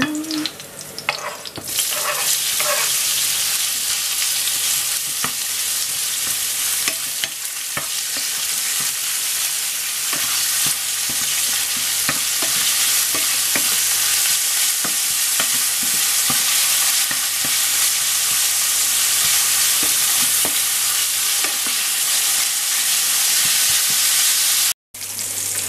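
Meat frying in oil in a pan, a steady loud sizzle that runs unbroken nearly the whole time, close up, with occasional scraping as the pieces are stirred and a brief dropout near the end.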